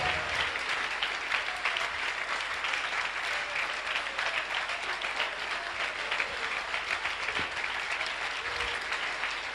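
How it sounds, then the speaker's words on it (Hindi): A church congregation claps in praise during a service, a continuous wash of hand claps that stays even and sustained throughout, with no voices standing out. "Oh, let's give the Lord a hand clap of praise."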